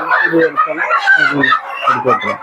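Country chickens on a small poultry farm in Udupi district cluck and crow close by in a busy, overlapping chorus, with a voice faintly mixed in.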